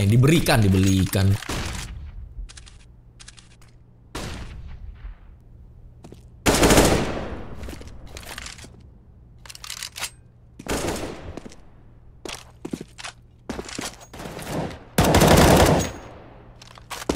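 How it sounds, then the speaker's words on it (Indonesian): Gunfire in a CS:GO online tournament match: sharp rifle bursts and single shots come in several separate volleys, loud and close, with quieter stretches between them and commentary underneath. "Dark Ace ditembak oleh Nis dari konektor"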